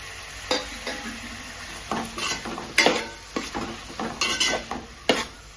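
Onions and tomato fry for chicken masala in a pan, a low steady sizzle broken by frequent scraping and clinking strokes of a utensil stirring against the pan, close and moderately loud.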